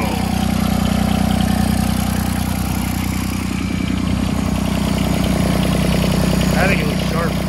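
Turbocharged diesel John Deere 330 mower engine idling while it warms up, a loud, steady low rumble with a continuous throb, close and unbroken throughout.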